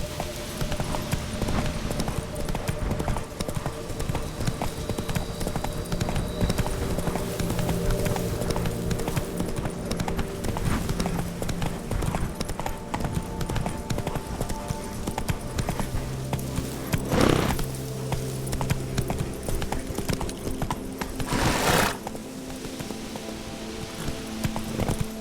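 Horse hooves gallop in a fast, steady clip-clop rhythm throughout in the Witcher 3 video game, close and loud, with a few brief louder thuds near the end.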